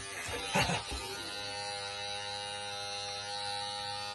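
An Andis electric hair trimmer runs with a steady, close buzz that keeps going for the whole stretch, with a brief burst of rustling and contact noise near the start.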